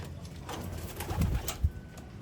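Pigeons cooing close by in soft, low throaty phrases, with a couple of fuller coos standing out over faint background noise.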